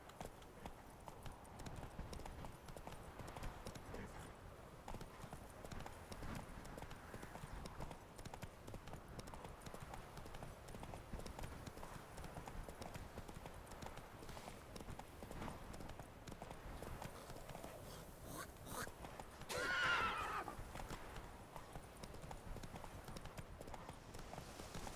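Geralt's horse Roach clip-clops at a steady, rapid gait through the Witcher 3 game world, hoofbeats continuous and fairly faint, with a short louder burst near the end that may be a neigh.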